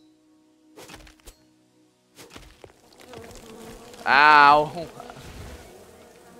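A short burst of video game bee buzzing, like a swarm released from a felled tree in Len's Island, rises loudly for about a second amid scattered thuds and a brief exclamation.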